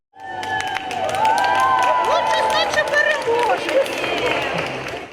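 A crowd at a family sports competition claps and cheers, with shouts and high excited voices rising over the applause, fairly loud and sustained.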